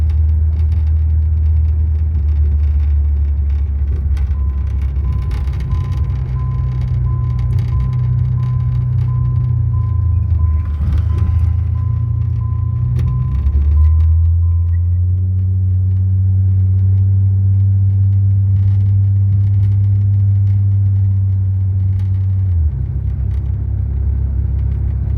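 A 1990 Eagle Premier's engine drones steadily while driving, a loud continuous rumble that shifts pitch a few times as it changes speed, with no voices.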